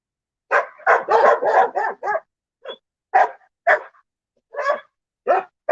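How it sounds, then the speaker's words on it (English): Dogs bark in a rapid cluster of loud, close yips and barks, then sporadic single barks follow with short silences between them, no voices present. "Doggies."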